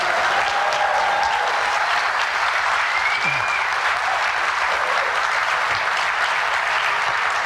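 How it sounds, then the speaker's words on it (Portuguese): Dense, sustained applause from a large crowd at a Brazilian political event honoring President Lula, a steady loud wash of clapping that continues without pause for several seconds. "pedir uma salva de palmas ao nosso líder Luiz Inácio Lula da Silva"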